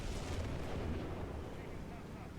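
Rumbling booms of artillery fire during a Company of Heroes 2v2 match. Dense low thuds roll into each other as a loud, continuous barrage that slowly fades toward the end.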